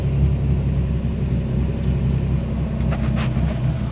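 A 1965 Corvair with its rear air-cooled flat-six cranking and catching on a cold start, a loud steady low engine rumble that runs throughout with a rising rev toward the end.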